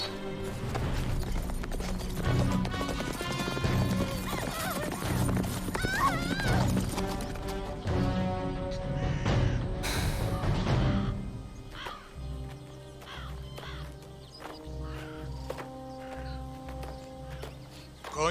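A horse walks with hooves clip-clopping and neighs loudly amid cawing crows and outdoor bustle, with rich layered sound over the first two-thirds before thinning to softer, scattered steps and calls.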